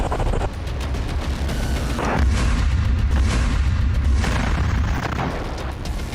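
Heavy explosion of a GBU-38 bomb striking a Merkava tank east of Jabalia camp, with a dense, sustained roaring rumble and booming low-end swells across the whole span, loud and unbroken, with no voices.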